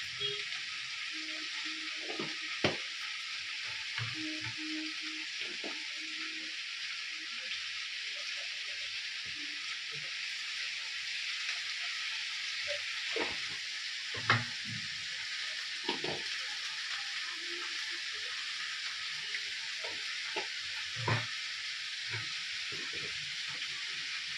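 Spices frying in a pan give a steady broadband sizzle for the whole stretch, with occasional clinks and stirring knocks.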